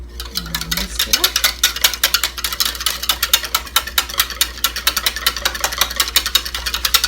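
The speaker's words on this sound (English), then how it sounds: "and whisk it up" A whisk beats apple pie mixture with cinnamon and nutmeg in a bowl, making quick, steady, rhythmic clicks and scrapes that run close and continuous throughout, with a brief voice at the start.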